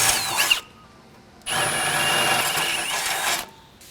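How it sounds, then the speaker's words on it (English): Power drill with a small bit boring a pilot hole while a high-clearance front sway bar is fitted to a Tri-Five Chevy, a short whine, a pause, then a longer steady high-pitched drilling burst that stops abruptly. "I'm gonna start with the smaller drill bit"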